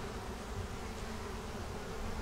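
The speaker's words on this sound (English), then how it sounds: "you see all those bees hanging around it?" Honey bees clustered around an unhatched queen cell inside a hive give off a steady, dense buzzing hum at close range, with no voices.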